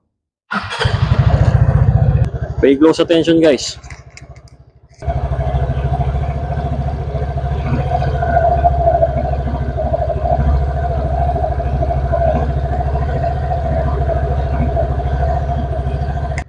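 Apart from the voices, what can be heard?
ticking sound of an Easyride 150Fi motorcycle on first start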